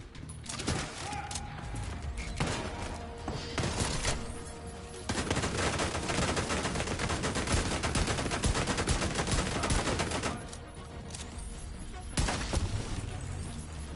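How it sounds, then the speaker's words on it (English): Rapid automated turret fire in The Division 2 rattles in dense bursts through most of the stretch, loud and close, with players talking over the shooting. "Oh, that's a turret."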